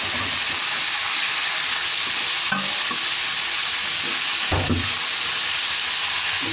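Chicken leg (lempo) and thigh frying in hot oil, a steady dense sizzle running throughout with occasional louder crackles and stirring scrapes, close and fairly loud, no voices.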